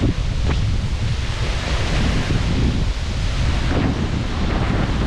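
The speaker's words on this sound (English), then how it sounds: "here's the path where you can walk behind the waterfall" Broadband roar of spray and wind on a path behind a waterfall in Iceland, steady and loud throughout, with buffeting wind noise on the microphone and no talking.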